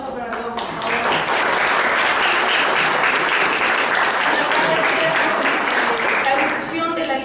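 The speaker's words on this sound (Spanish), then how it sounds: "Un aplauso para todos, por favor." Audience applause at a cultural event on reading and literature, dense clapping that swells after the first second and holds steady throughout, with faint voices mixed in.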